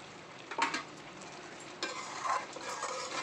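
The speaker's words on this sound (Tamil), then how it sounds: "போட்டு நல்லா பரட்டி விடுங்க." Dried anchovy curry being stirred in a pan, South Indian style, with a spoon scraping and clinking a few times over a soft, steady sizzle of frying, close and without talk.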